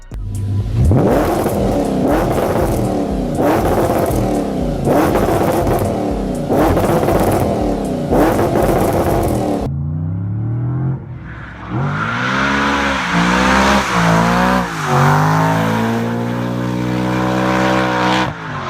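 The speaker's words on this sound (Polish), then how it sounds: "ta V8 z wydechem Milteka brzmi niesamowicie" A V8 car fitted with a Milltek exhaust is revved repeatedly in loud, close bursts, each rising and falling sharply, then it runs through a series of smoother climbing and dropping revs.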